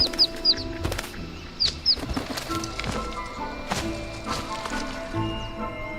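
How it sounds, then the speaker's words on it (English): Chinese merganser ducklings flap their wings as they tumble from a tree nest to the ground, giving a few short, soft fluttering bursts close by amid outdoor rustle and faint bird calls. "some of the ducklings vainly flap their wings as they fall to the ground"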